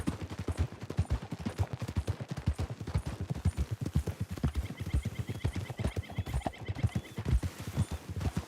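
Hooves of a horse galloping in Red Dead Redemption 2, a steady rapid clip-clop rhythm running throughout, loud and close, with faint game background sounds and no talk.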